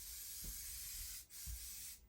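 Kiwi suede and nubuck waterproofer hisses out of an aerosol can onto roller skates in two steady, close spray bursts with a short pause between them, and no one talks.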